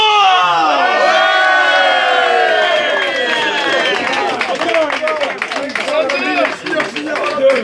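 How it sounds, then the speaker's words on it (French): A crowd at a sports match cheers loudly for the junior players, with shouts, whoops and high children's voices over scattered clapping, close and energetic throughout. "j'aimerais qu'on applaudisse énormément les juniors du Roi."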